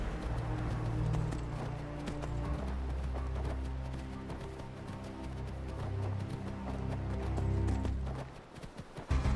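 Hoofbeats of a horse galloping in the video game Skyrim, a steady drumming clip-clop under a dense game soundscape that runs nearly the whole time, then breaks off near the end.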